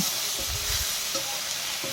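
Potatoes fry in a pan with a poured-in spice paste, a dense hiss of sizzling broken by a few scraping stirs of the spoon, close and continuous for a brief moment.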